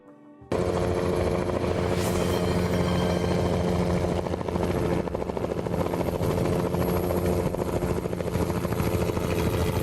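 A helicopter in the video game Rimworld roars in loud and close after a brief quiet start, its steady rotor chop and engine drone holding for nearly ten seconds with gunfire-like rattling mixed in.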